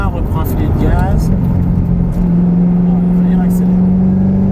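A Ford Mustang GT500 on a circuit during a driving course, its engine droning loud and close with a rising, steady mid-range tone, while someone talks over it in the cabin.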